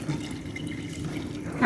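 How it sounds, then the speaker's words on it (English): Hot water being poured into soaking tamarind to make a Jamaican tamarind drink, a low steady splashing stream that swells louder at the very end. "So we also added another 2 cups of hot water,"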